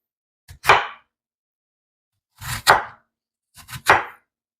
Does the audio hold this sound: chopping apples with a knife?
yes